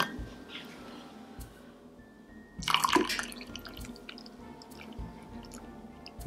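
Milk poured into a cup for a homemade pumpkin spice latte: a quiet, steady liquid trickle with faint drips, then a brief louder splashing gush partway through before it settles back to a soft pour.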